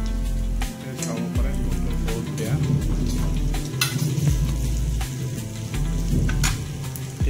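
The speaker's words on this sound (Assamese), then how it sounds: "ইয়া 2-3 মিনিট ফ্রাই কৰিলো এতিয়া দিবলৈ কঁঠালটো এতিয়া দি দিম" Jackfruit tossed into pork frying in a pan, giving loud, continuous close-up sizzling with repeated scraping stir strokes and a low, steady rumble beneath.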